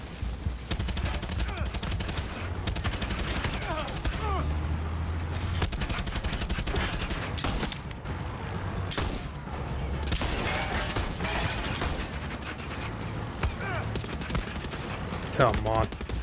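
Rapid enemy gunfire crackles continuously in Far Cry 6, dense bursts of automatic shots and mechanical clatter running throughout, close and loud.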